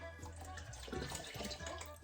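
Water poured by the half-litre into a home-brew mash for a Sierra Nevada pale ale clone brewed in a bag, a steady splashing stream running close by for about two seconds over a low background hum.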